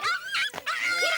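A dog at a dog clinic whimpers and yips in high, wavering whines, close and fairly loud, with a brief breathy break in the middle.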